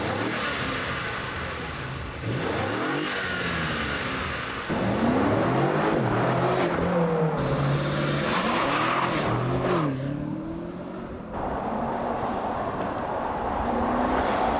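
A BMW G90 M5 fitted with a RamAir carbon intake makes repeated flybys outdoors, its engine revving hard and rising and falling in pitch as it approaches and passes, with brief tire squeal and wind noise between passes.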